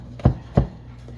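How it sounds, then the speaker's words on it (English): A kitchen knife chops through crushed garlic on a board during vegetarian chili prep, giving two sharp, close thuds about a third of a second apart over a quiet background. "Now what I'm going to do is I'm just going to start chopping through this."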